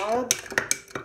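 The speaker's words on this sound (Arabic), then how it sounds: "نحركهم مع بعض" A spoon stirs yeast and sugar into water for awameh dough, giving a few distinct clinks against the bowl in quick succession, close and moderately loud.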